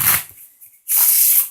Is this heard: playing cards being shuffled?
yes